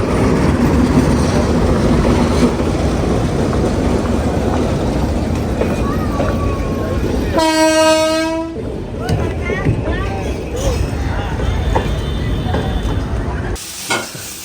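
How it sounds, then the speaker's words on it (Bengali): A local train rolls past in the rain, a loud continuous rumble of wheels and carriages with a long horn blast partway through, then the clatter carries on steadily to the end. "local train"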